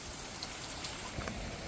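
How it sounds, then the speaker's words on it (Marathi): Heavy rain falls on a mountain trail near Kothaligad fort, a soft, continuous patter and hiss of drops that sounds fairly faint and even, with no voices. "आणि पाऊस मजबूत आहे"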